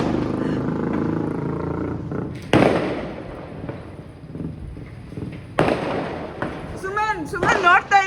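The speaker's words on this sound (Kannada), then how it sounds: "ನೀನ್ ಬರ್ತಡೆ ಪಟಾಕಿ ಹೊಡಿಸ್ತಿದ್ದೀನಿ." Firecrackers go off at a birthday celebration: two sharp, loud bursts with crackling tails, separated by stretches of people talking, with a voice rising at the end.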